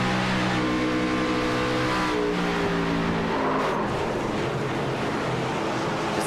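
Race car engines roar loudly at speed during a Rush Championship Series race, pitch sliding as they pass, with a dense wash of noise throughout.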